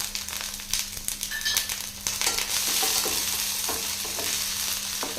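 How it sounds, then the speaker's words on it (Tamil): Onion and green chilies frying and sizzling in a pan for a Tamil carrot stir-fry, with a utensil stirring and scraping through the hiss in close, steady bursts; no voices. "சேர்த்துட்டு நல்லா கலந்து விட்டுறலாம்."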